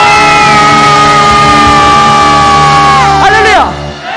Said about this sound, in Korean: 살아계신 하나님께 함성으로 5초간 발사 시작!